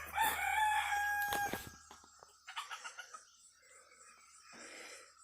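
A rooster on a farm crows loudly and close at the start, followed by softer clucks and calls from a flock of chickens, with quieter scattered bird noises toward the end.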